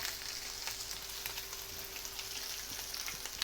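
Good-quality bacon rashers fry steadily in a pan, crisping on one side, giving a continuous fine sizzle and crackle at moderate level with scattered small pops and no talking.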